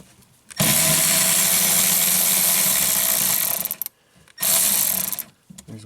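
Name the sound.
Milwaukee power tool on 10mm bolts of wiper motor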